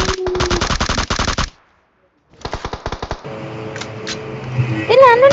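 Rapid automatic gunfire in the mobile battle royale game PUBG Mobile: a long burst of shots, a short silence, then more bursts that fade into background game noise, with players talking.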